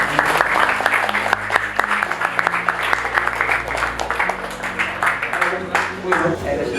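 Applause for a guest speaker at a student business-advice club event, a sustained patter of many hands clapping with a voice speaking over it throughout.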